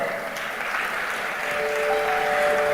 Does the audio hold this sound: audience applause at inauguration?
yes